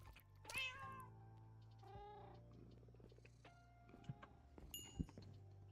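Cats meowing in the Minecraft video game, with several clear, close meows in a row over a steady low purr, and a few soft clicks in between.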